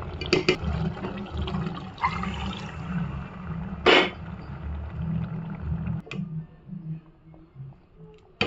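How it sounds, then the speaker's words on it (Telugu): Water is poured into a pot of chicken curry as a gravy is made, giving a steady liquid rush over a low simmering rumble, with a sharp splash near the middle and a few clinks near the end. "ఇప్పుడు ఇందులో కొద్దిగా వాటర్ వేసుకుందాం."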